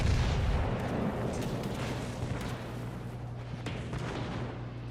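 Heavy naval secondary batteries of 8-inch guns pound away in a World of Warships Legends battle, a dense continuous rumble of overlapping booms and low bursts with no clear gaps between shots.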